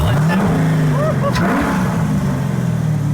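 The engine of a rear-engined sports car revving, a loud low rumble that rises and falls in pitch over a steady idle, close by, with a voice talking over part of it.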